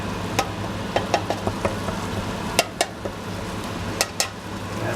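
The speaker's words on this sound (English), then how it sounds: "We have to stir it well." Coriander and cumin seeds fry in a pan for chicken tikka masala while being stirred: a low, steady sizzle with scattered light clicks and scrapes of the utensil, close and fairly quiet.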